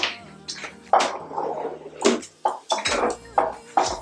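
Food being mixed in a bowl in a home kitchen, with eggs in the mixture, gives irregular scraping knocks and clinks of utensil against bowl, close and fairly loud, in uneven bursts with brief pauses and no speech.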